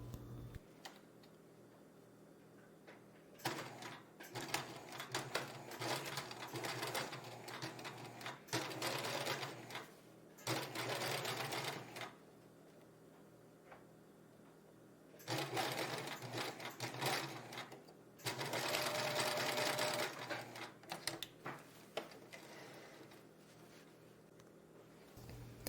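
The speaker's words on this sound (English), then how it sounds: "Now we're going to sew a straight stitch 1/2 inch from the edge, starting at the top of the curve, ending at the inseam." A sewing machine runs a straight stitch along the curved seam of fabric boxers in several bursts, a fast, even mechanical chatter close up, stopping and starting between runs with quiet pauses.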